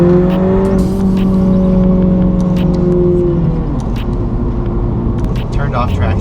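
A car engine climbs and holds a steady revving drone on a mountain drive, then drops in pitch as the driver downshifts, staying loud and close throughout.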